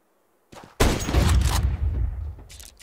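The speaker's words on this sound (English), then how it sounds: "Takes another pot shot." Counter-Strike gunfire: a sharp nearby shot followed by a loud burst of firing and echoing tail, then a few softer cracks.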